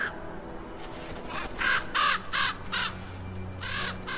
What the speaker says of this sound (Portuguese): Um banquete para os corvos.